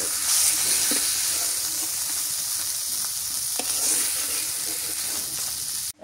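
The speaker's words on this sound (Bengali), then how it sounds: "মাছটা ভাজে" Fish from paddy-field wetlands sizzling steadily in hot oil in a pan, a broad continuous hiss with faint pops, close and alone for about six seconds before cutting off.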